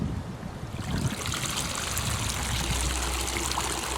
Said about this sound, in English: The water should drain out of that practically instantly.